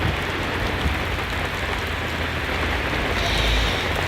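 Heavy rain pours during a thunderstorm as a dense, constant roar of drops on surfaces, loud and unbroken throughout, with a low rumble swelling briefly near the end.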